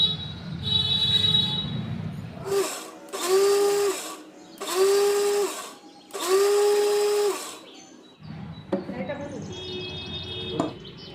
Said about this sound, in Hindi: मिक्सर जार में डाल देंगे और इसको अच्छे से दरदरा पीस लेंगे।